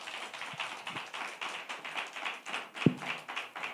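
Congregation claps at a Korean church dedication service revival meeting to welcome the pastor, fairly quiet, scattered hand claps, with one sharp louder clap near the end.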